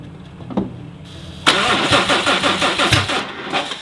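A car engine with faulty timing cranks briefly, then fires abruptly with a sharp backfire and settles into a loud, rough, uneven running.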